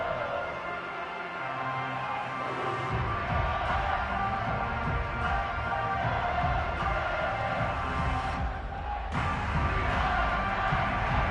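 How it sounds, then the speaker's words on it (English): A stadium crowd at a football game keeps up a slow, steady clap, a broad wash of many hands and murmuring voices throughout, with no clear speech on top. "Oh, you're going slow clap on me."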